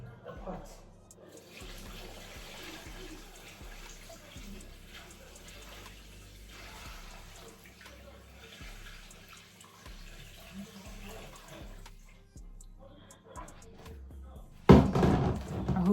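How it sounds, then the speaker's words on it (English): Hot water running from a tap into a pot to soak fabric for a cosplay shirt, a steady faint pour under other sounds, ending in a loud burst of splashing near the end. "And I have to add enough hot water to fill up the pot."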